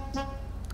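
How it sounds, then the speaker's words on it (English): A short, off-key car horn toot from GTA V Online sounds once over a low engine drone, followed by a faint higher blip. "try to honk the horn, it'll sound really off-key"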